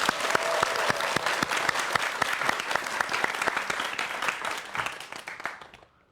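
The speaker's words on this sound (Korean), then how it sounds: "여러분 박수로 함께하겠습니다" An audience applauds a physics professor arriving for a lecture on network science. Many hands clap in a full, brisk burst that gradually thins and fades toward the end.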